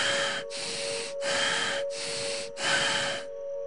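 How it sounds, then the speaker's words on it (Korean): Deep, fast rasping breaths during a guided meditation practice, five forceful noisy exhalations in a steady rhythm, each separated by a brief pause, close and loud, with a faint steady tone running underneath. "Deep and fast rasping breath."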